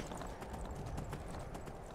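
A horse's hooves clip-clop in the Skyrim video game, a faint, steady run of hoofbeats at a regular pace over quiet background sound.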